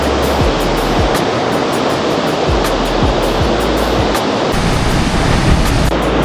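A strong river current rushes in a steady, loud roar of broadband water noise, with faint low thumps scattered through it and no voices.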